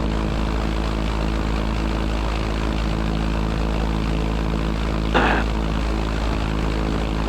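A Zenith light aircraft's propeller engine drones steadily and evenly, with one short click partway through.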